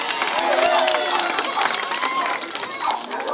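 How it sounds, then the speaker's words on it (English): A crowd cheers and shouts steadily at a live dog agility show, a dense, lively roar of many voices kept up throughout with scattered yells. "Are you ready to cheer on our agility dogs?"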